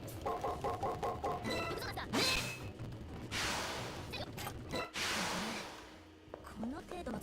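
Chickens clucking in the video game Fate/EXTRA, a string of short clucks at the start, followed by whooshing game effects and a voice talking.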